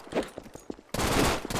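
Gunfire in Garry's Mod: scattered single shots, then a sudden dense burst of rapid automatic fire that fills the second half, loud and close.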